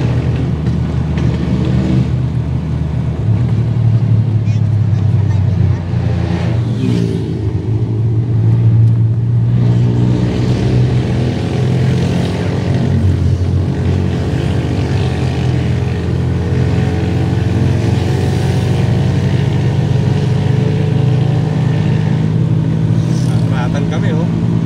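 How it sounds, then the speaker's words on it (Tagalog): Motorized tricycles run alongside on a road trip, their engines blending into a continuous loud rumble with rising and falling revs and passing vehicle noise, under occasional talk. "Yung mga tricycle po nakasabay namin oh."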